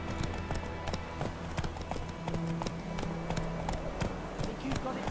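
Horse hooves clip-clop in The Witcher 3 as the game's horse moves along, a steady run of close hoofbeats over ambient game noise with some in-game talk.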